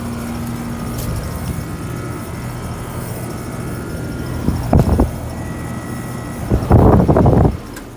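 A 1986 Trane heat pump runs outdoors at a medical complex, giving a steady low mechanical hum with a couple of louder, brief rattling surges near the end.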